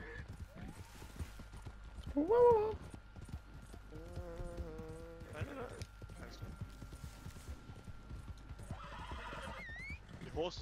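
A horse in Red Dead Redemption 2 whinnies several times over a running beat of hoofbeats, and players talk quietly underneath.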